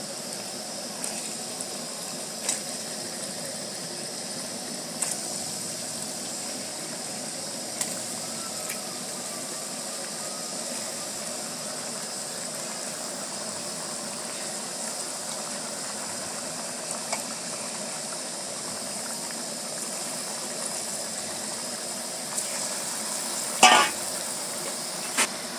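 Chicken pieces frying with lightly browned onions in a pan, a steady low sizzle throughout with occasional soft clinks of stirring and a brief louder scrape near the end, no talking.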